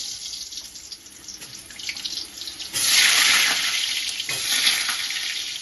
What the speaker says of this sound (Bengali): তেলটা গরম হয়ে গেছে, তেল দিয়ে ধোয়া উঠছে। এই অবস্থায় আমি আলুটা ছেড়ে দিব।